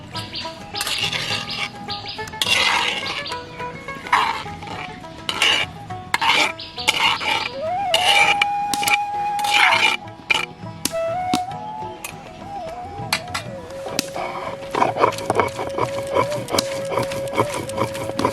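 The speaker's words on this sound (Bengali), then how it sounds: "আমি পাটায় বাটবো" Yardlong beans being ground by hand on a stone slab (pata), with repeated rough scraping and knocking strokes close by, mixed with birdsong and other household sounds.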